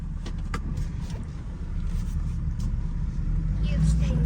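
A 1971 Pontiac Firebird restomod with 241 heads, an LS6 intake from a 2002 Camaro and a 4L60 four-speed automatic runs with a steady, loud low engine rumble that swells slightly toward the end, under faint talk.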